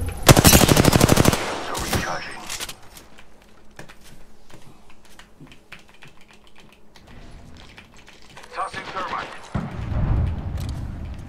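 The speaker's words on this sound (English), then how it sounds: "I'm getting shot at." Gunfire in a video game: a dense burst of rapid automatic shots at the start, scattered sharp cracks through the middle and another heavy volley near the end, with a voice talking in between.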